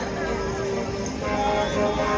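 A six-horse hitch of Clydesdales working a show ring at the Iowa State Fair, hooves clip-clopping in a steady brisk rhythm under a public-address voice and crowd murmur.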